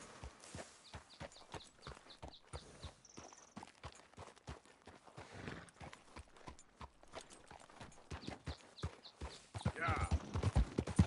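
Horse hooves clip-clopping in Red Dead Redemption, a quick irregular patter of hoofbeats over shifting ground that grows louder toward the end, with occasional voices.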